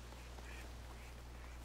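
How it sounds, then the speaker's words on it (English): Ducks quack in the video game Horizon Forbidden West, a few soft, scattered calls sitting faintly over a steady low ambient hum, with no talking. "There's so many ducks."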